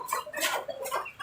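Chickens at a backyard chicken farm, several close, loud clucks in quick succession over about a second, with no voices.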